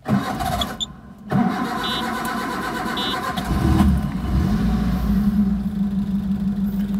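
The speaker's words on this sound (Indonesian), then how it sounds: "kita nyalain dulu mobilnya ya" A manual car's engine is cranked and catches, a brief starter whir followed by the motor settling into a steady, close idle with a low continuous rumble.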